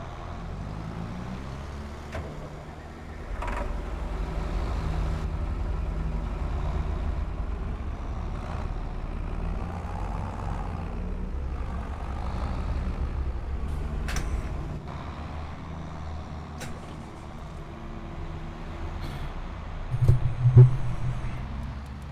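A vehicle in Farming Simulator 22 drives toward the dealer with a steady low truck-like engine drone, joined by a brief air-brake hiss and rattle near the end, fairly quiet and with no talk.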